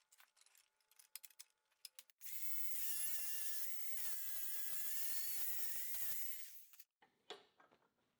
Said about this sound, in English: You can see how fast this is with a grinder.